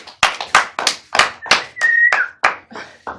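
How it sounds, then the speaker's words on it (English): Sharp, distinct claps ring out one after another in an uneven rhythm in a lecture room, close and loud, with no talk over them. "Let's applaud to you."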